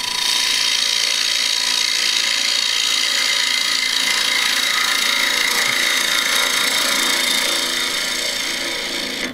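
A sharp Thompson hand tool is leaned into wood during a transfer of an inkjet image onto the wood, giving a continuous, close, rasping scrape that holds steady throughout.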